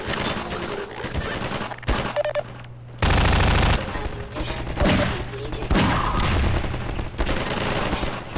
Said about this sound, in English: Just running through all my ammunition at this point.